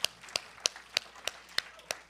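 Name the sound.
audience applause for a DJ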